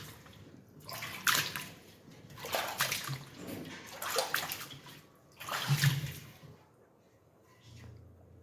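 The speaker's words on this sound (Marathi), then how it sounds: "तर आता साध्या पाण्याने एकदा धुवून घेऊयात." Plain water splashes and sloshes inside a clay water pot as it is rinsed, in several close bursts of pouring and swishing separated by short pauses.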